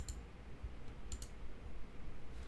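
Computer keyboard keys clicking during game development work, a few faint, sparse taps over a steady background hiss.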